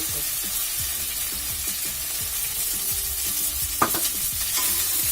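Cumin paste fries in a pan for a green papaya and fish curry, with a soft, continuous sizzle close by, broken by light clicks from stirring and one brief louder scrape, with no talking.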